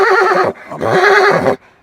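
A horse neighs loudly at close range, two strong whinnies separated by a short pause, with no voices present.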